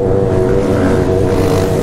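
Honda Hornet motorcycle with a straight-pipe three-inch exhaust held at high revs, a loud, dense, continuous engine roar close by.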